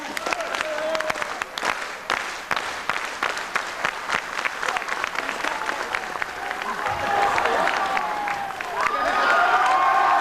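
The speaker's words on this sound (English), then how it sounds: "I think you're all going to need to clap." An audience at a high school Mr and Miss contest claps, a dense patter of applause that swells toward the end as cheering builds.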